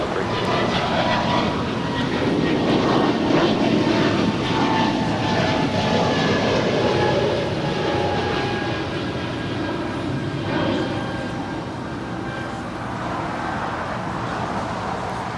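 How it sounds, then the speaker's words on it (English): An Air Canada Airbus A220-300 takes off from LAX bound for Calgary, its jet engines giving a loud, sustained roar that swells and then slowly fades, with a faint voice now and then beneath it. "That was Air Canada 573 departing to Calgary. It's an A220-300."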